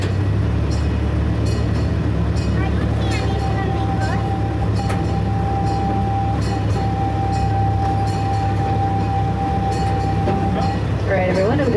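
A tour train rolls along its rails toward a tunnel, giving a steady loud rumble with a sustained whining tone and some squeaks and clatter throughout.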